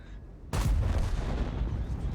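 A single heavy tank cannon blast in a video game bursts in suddenly, followed by a booming, rumbling decay that lingers for the rest of the clip.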